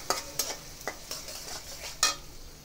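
Prawns, onion and green chilli frying in oil, a soft continuous sizzle punctuated by several sharp spatula scrapes and clinks against the pan at irregular intervals.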